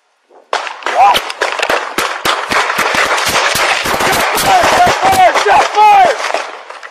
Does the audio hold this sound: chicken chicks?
no